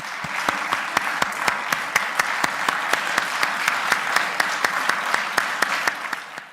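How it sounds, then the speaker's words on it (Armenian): Party members in parliament clapping as colleagues depart, a steady rhythmic round of applause with sharp, evenly spaced claps at a brisk pace, fading slightly at the end. "ՔՊԱ-ականները ծափերով են ճանապարհում թիմակիցներին։"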